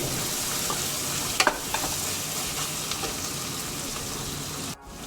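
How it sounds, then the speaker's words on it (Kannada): Spices frying and sizzling in a hot pan with steady crackle, a few scraping stirs of a spoon near the start, continuous and close with no talking. "ತಿರ್ಸ್ಕೊಂತ ಫ್ರೈ ಮಾಡಬೇಕು, ಇಲ್ಲಾಂದರೆ ತಳ ಸೀದ್ಬಿಡುತ್ತೆ"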